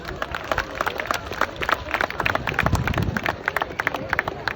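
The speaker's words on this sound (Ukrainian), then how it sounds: "Ваші оплески" Audience clapping after a speaker's introduction at a Ukrainian community event honoring a world record, steady dense applause with crowd murmur underneath, moderately distant.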